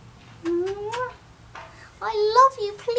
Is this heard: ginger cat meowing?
yes